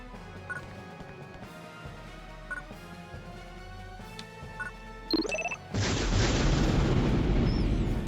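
A key bomb goes off in Phantasy Star Universe, a sudden loud burst that swells into a sustained roaring rumble after a few quieter game tones and clicks.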